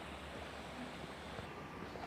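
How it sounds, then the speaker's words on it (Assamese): Stream water at the Basistha Temple grounds flows in a steady broadband rush, moderately close and continuous with no voices. "এই জুৰিৰ পানী বৈ আছে, দেখিছে।"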